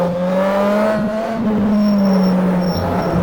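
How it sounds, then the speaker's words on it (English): Mazda 787B rotary engine in the rFactor racing game, a loud, close, high-pitched buzzing rev that holds steady and climbs slightly in pitch, alone with no talking. "A nice revving rotary engine."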